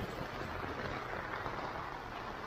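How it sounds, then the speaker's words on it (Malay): Steady rain falls outside a small boutique hotel in Kuala Terengganu, a dense, even hiss of drops on surfaces held at the same level throughout, with no voices. "Hujan ni."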